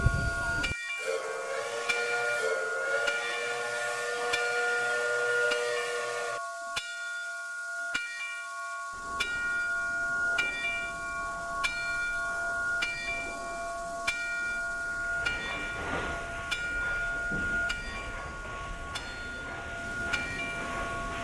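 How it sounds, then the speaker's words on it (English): A model steam locomotive runs on a layout, giving steady hiss with tonal whistle blasts, then a long high whistle. Bell-like tones ring at intervals over a grainy running noise. "The stations are unnamed, but the locomotive will ride around the layout."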